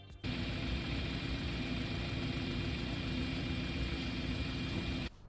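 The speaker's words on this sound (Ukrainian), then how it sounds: "І є відео з аукціону, як працює двигун." A car engine idles steadily, a constant low rumble with even loudness that starts abruptly and cuts off just as suddenly.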